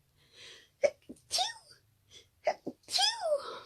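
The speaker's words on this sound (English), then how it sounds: "I'm about to sneeze." A person sneezes twice, each sneeze starting with a sharp indrawn breath and ending in a loud burst, close to the mic with quiet breathing between them.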